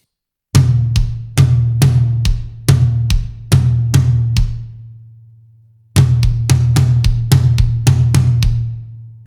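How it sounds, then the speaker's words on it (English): Drum kit playing 16th-note flams between toms and kick in accented bursts, loud and close, a pause with a decaying tom, then the pattern resumes. "this section is going to be all 16th notes going between flams on the toms and our kick drum"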